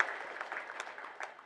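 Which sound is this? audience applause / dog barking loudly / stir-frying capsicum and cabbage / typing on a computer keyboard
audience applause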